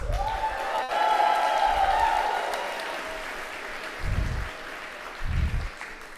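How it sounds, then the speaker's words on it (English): A crowd at a student competition qualifier event applauds and cheers steadily, with sustained clapping and a few bursts of whooping and crowd noise swelling near the end. "That was a lot of cheering."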